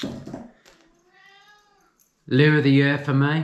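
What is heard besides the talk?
cat meowing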